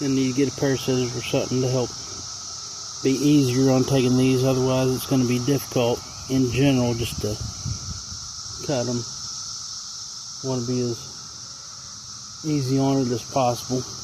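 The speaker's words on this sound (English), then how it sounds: "That low rumble background noise you hear is all the cicadas" Cicadas drone steadily outdoors after a storm, a constant high buzzing bed that runs beneath someone talking throughout.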